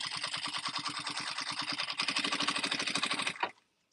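A sewing machine running a 1/8 inch basting stitch: a fast, steady rhythmic needle chatter, close and fairly loud, running continuously for a few seconds before stopping abruptly.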